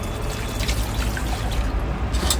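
Tap water trickles and pours steadily into a sink during rinsing beside a portable mini washing machine, a continuous close, moderately loud flow with small splashy bursts.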